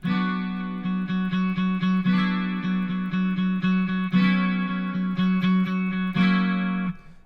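A bright, jangly modeled twelve-string acoustic guitar tone from a Line 6 Helix strums a rhythmic chord pattern with quick repeated strokes, ringing and full, with no voices.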